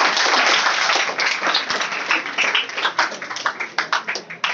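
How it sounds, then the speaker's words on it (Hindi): An audience clapping in a room, loud sustained applause that thins into scattered individual claps toward the end. "जिन्होंने खुशखबरी सुनी है और तालियां मारनी शुरू कर दी"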